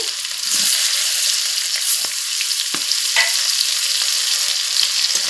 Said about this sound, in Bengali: এখন আমি সমস্ত উপকরণ এখানে আমি লাল করে ভেজে নিব